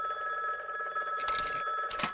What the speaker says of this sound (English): Homer, meanwhile, uses his keyboard to smash open walnuts when his emergency phone rings.